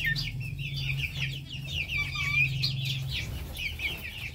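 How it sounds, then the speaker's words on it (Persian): Silkie chicks about two months old cluck and chirp continuously in a close, busy chorus of short, high calls, with a low steady hum running underneath for much of the time. "جوجه های درجه یک ابریشمی"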